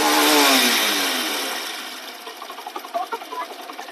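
Honda Shine 125 BS6 motorcycle engine running smoothly after its clutch bowl was refitted, a steady close mechanical drone that starts loud and gradually fades, ending in a series of light rhythmic ticks and pulses.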